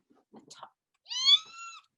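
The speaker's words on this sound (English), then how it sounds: "It sounds like a cat." A pet cat meows indoors at a house in New Zealand, a couple of soft short chirps followed by one clear, drawn-out meow, close and alone.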